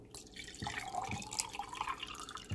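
Water poured into a glass with ice for a summer party drink, a soft trickle with light clinks and drips, close and fairly quiet, no talking.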